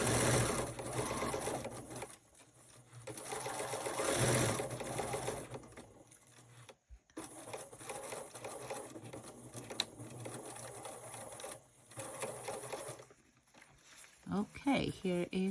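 A sewing machine runs in rapid, busy bursts as it stitches a straight line, pausing briefly between runs, loud and close, with a person speaking near the end.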